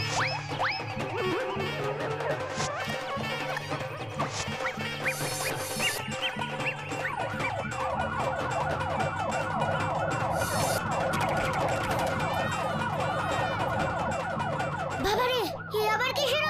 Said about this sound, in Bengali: এটাকে বলে চুরির সাইরেন